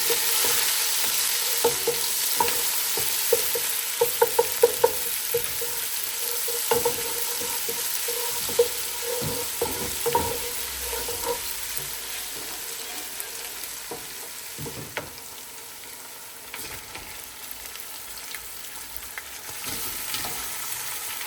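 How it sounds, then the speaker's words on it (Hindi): Lamb chops frying in oil with ginger and garlic, a continuous moderate sizzle with scattered pops and stirring clatter close by, no speech. "और इसी ऑयल में अदरक लहसुन डाल के चॉम्प्स डाल के उसका कलर चेंज करके"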